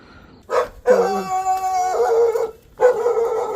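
Village dogs greet arrivals at a hillside house at night with loud, close barks and drawn-out howling yelps, in two bursts separated by a short pause.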